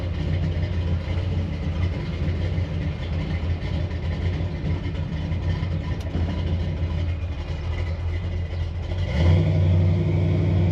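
A 1986 Chevy C10 pickup truck engine idles with a deep, throaty exhaust rumble, then revs up louder near the end.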